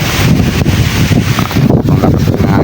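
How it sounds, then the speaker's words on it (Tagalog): Strong wind buffeting the microphone in a loud, continuous roar with gusty rumbles and rustling throughout. "malakas ng hangin mga kumangka"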